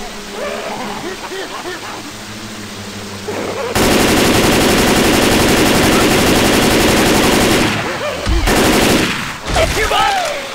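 Loud, continuous automatic gunfire in Left 4 Dead 2, a dense rattling burst holding for several seconds and then stopping abruptly, with people talking before and after it.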